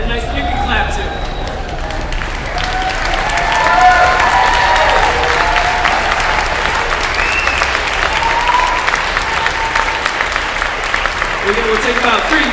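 An audience in a hall shuffles their feet and claps to recognise the senior class, a dense, steady rumble and patter lasting throughout, with voices talking over it.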